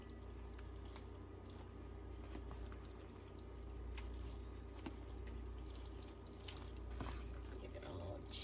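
Sauce is poured and mixed over a Christmas dinner dish, giving quiet dripping and pouring sounds that are faint and close.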